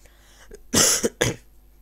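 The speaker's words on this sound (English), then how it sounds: "Keep coughing." Two sharp coughs in quick succession, close and loud, with a brief breathy sound just before them and quiet afterward.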